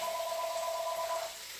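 A landline telephone rings in a home kitchen where onions and garlic are being cooked, a steady electronic tone that holds for over a second and then stops.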